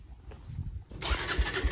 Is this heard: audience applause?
no